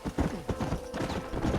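Quick, close hoofbeats from a horse in Red Dead Redemption clatter in a brisk repeating rhythm, fairly loud and without talk.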